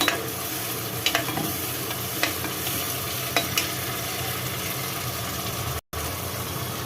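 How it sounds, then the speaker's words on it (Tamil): Ground green paste is being sautéed with onions in a pan, giving a continuous steady sizzle with a few sharp scraping stirs of a spoon against the pan, then a brief cutoff near the end. "இப்போ இதை கொஞ்சம் நல்லா வதக்கிக்கலாம்."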